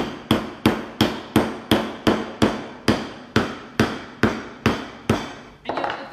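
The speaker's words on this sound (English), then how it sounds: "So a bit more hammering." Cocoa Jack tool hammered into a coconut to open it, about a dozen sharp, evenly spaced strikes, loud and close, with a brief scraping rustle at the end.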